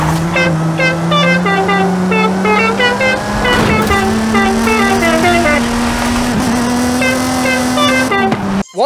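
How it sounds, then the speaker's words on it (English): A Spiral Mountain car horn in the video game Forza Horizon 5 plays a bright, jaunty melody of rapid honked notes over a steady car engine drone, loud and continuous for several seconds before cutting off. "I unlocked a Spiral Mountain car horn"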